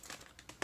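A thin snack wrapper from a Japanese snack box crinkles softly in short rustling bursts, ending with one sharper crackle as it is torn open, quiet and close with no talk.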